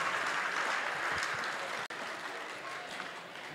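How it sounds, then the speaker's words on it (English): An audience at a sheep shearing competition applauds the junior contestants, a broad, steady wash of clapping from a crowd that holds for the whole few seconds with no break in its intensity. "A round of applause, please, for our great lot of contestants."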